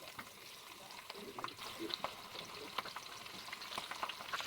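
Turmeric-and-chilli-coated hilsa fish pieces frying in a pan give a steady, soft sizzle with faint crackles and occasional stirring clicks, fairly quiet and close.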